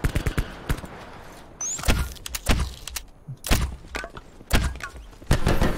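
Gunfire in the video game Call of Duty Blackout, a run of sharp, loud, separate shots and impacts spaced irregularly, with some thuds and vehicle-like clunks in between.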